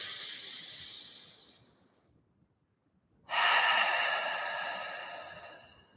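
Deep breathing during a guided exercise: a long, loud exhale tapering into a pause of near silence, then a sharp full inhale that slowly fades out, close and alone.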